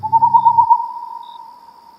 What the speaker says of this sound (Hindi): फड़फड़ाते पंखों की आवाज के साथ एक काला उल्लू आकर गाब के पेड़ पर बैठा